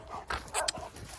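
A puppy whimpers in a few short, high, broken bursts, close by, over a low background rumble.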